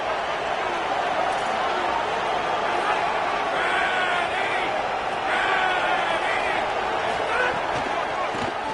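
Stadium crowd noise in a college football video game, a steady roar with rising cheers after a run is stopped at the line, under continuous commentary.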